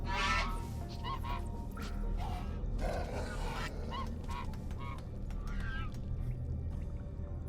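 Goose honking effect from the Goose Hydra card in MTG Arena, a few short nasal honks spread over several seconds under a dense, noisy game soundscape.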